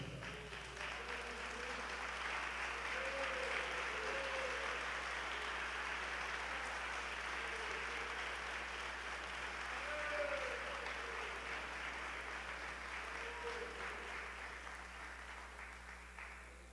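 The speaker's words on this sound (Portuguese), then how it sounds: "Vamos ficar de pé um pouquinho e vamos aplaudir essa" A standing church congregation applauds for a long stretch, continuous thick clapping heard from a distance with a low hum underneath and faint voices mixed in.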